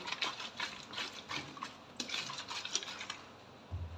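A capped bottle of homemade cleaning liquid for mopping is shaken hard by hand, giving a quick run of rhythmic sloshing, rattling bursts, close and fairly quiet, with no talk.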